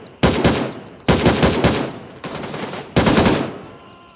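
Automatic gunfire from the shooter game Gray Zone Warfare comes in four loud sustained bursts, each a rapid stream of shots with short pauses between them, and almost no talk.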